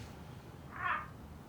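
A cat gives a single short, faint meow amid quiet room tone, brief and somewhat distant.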